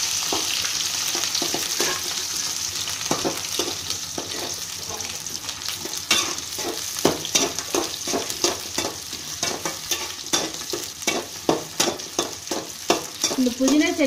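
Onions fry with dried red chillies in a pan for mint chutney, a steady crackling sizzle with frequent scraping stirs that grow busier toward the end, close and without talk.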